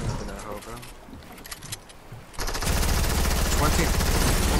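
Rapid automatic gunfire in a Fortnite-style battle game erupts loudly and continuously after a stretch of quieter game noise and chatter, dense sustained bursts filling the second half.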